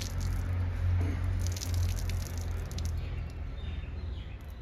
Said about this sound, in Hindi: इसको अच्छे से निचोड़ेंगे हम लोग।